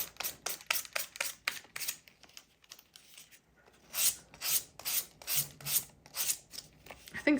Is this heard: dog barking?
no